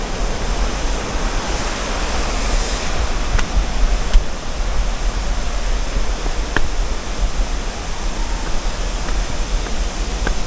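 Kakawayan Falls in Infanta, Quezon, a waterfall heard as a loud, steady broadband roar of rushing water that stays constant and close with no talk and only faint clicks on top.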